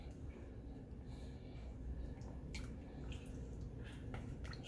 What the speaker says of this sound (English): All right, now we start stirring.